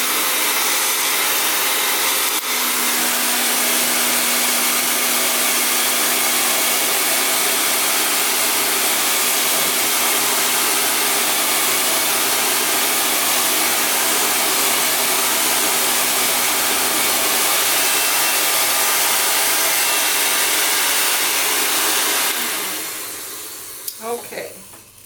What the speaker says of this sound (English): Again, mind the noise of the hairdryer.